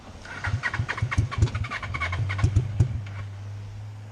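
A dune buggy engine cranks repeatedly in a rapid rhythmic chug, coughing as it tries to fire, then settles into a steady low rumble, loud and close.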